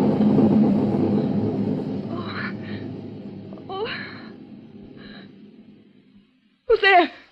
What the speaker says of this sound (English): It was only thunder.